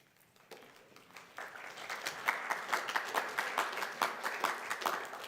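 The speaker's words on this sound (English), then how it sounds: "I'm going to ask you not to applaud" Audience clapping at a Kern County Board of Supervisors meeting starts sparse, then builds into steady, moderately loud applause from a roomful of people, with individual claps audible throughout.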